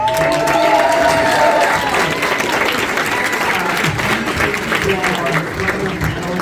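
Crowd applause for the panelists at a Halloween Horror Nights fan convention panel, dense sustained clapping from a large audience throughout, loud and close, with voices mixed in.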